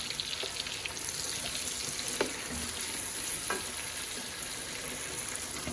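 Meat for akhni fries over a high gas flame, giving a continuous close sizzle with a few sharp pops and clicks scattered through it.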